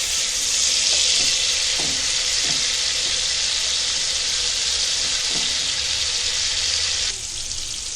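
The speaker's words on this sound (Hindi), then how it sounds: "अच्छे से टमाटर भुनेंगे" Loud, steady sizzling of tomatoes frying in a pan, with a few soft clinks of stirring; the hiss drops slightly near the end.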